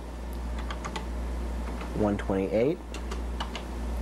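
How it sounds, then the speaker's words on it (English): Keys clacking on a Color Computer keyboard as a command line is typed: a steady run of quick, close clicks over low hum, with a voice briefly speaking midway. "A quick way to see them is to type in this command line."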